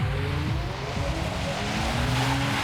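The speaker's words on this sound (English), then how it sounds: "you use that to your advantage to make the car slide, to go completely sideways through this hairpin" An Audi RS4 Avant slides sideways on ice through a hairpin, its engine droning loud and steady with rising and falling revs and a faint scrub of tires, with no talk.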